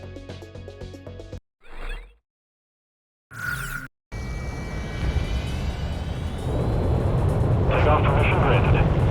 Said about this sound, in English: Garuda team, time to take off.